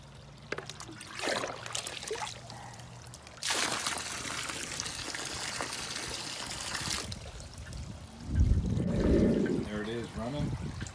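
Water splashes and trickles as it is poured into a fish pond, with a louder gush near the end; a voice talks over parts of it.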